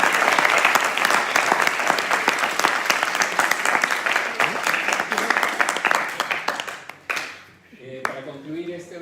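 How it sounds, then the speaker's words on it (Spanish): Audience at a university lecture on cell phones and cancer bursts into loud, dense applause that holds steady, then tapers off into a few scattered claps as a voice begins speaking near the end. "Les pido un aplauso para"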